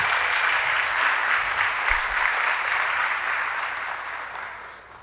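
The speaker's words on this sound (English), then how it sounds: "A round of applause for Ali." An audience claps steadily at an honors celebration for a person named Ali, a dense, full round of applause that holds for several seconds before slowly tapering off.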